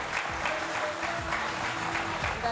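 Studio audience applause on a French talk show, a short steady burst of clapping lasting a couple of seconds with a low hum underneath.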